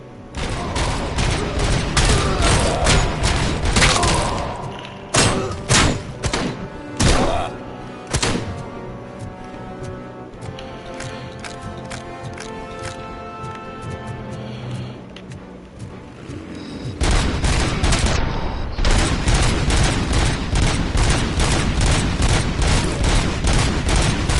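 Rapid gunfire in the RoboCop video game: dense bursts of shots and heavy impacts in loud stretches at the start and end, with sparser single hits and thuds between them and a voice talking over the action.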